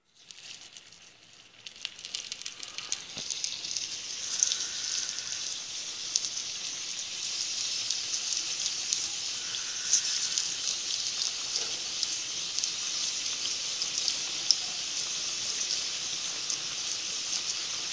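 Vegetable balls frying in hot oil, a steady bright crackling sizzle that starts after a quiet moment and continues evenly, close by, with no talking.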